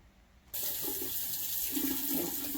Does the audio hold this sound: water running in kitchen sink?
yes